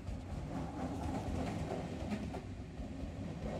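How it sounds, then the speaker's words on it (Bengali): A cartoon train gets going again after its engine is repaired during a night journey. It gives a steady, fairly quiet rumble with soft clickety-clack and no voices. "কিছুক্ষণ পর ট্রেনের ইঞ্জিন ঠিক হলে ট্রেনটা চলতে শুরু করে আবার"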